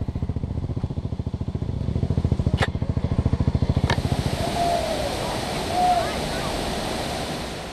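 A steady rush of falling water from a waterfall in Cambodia fills the scene, with a rhythmic engine-like chugging early on and a couple of sharp knocks.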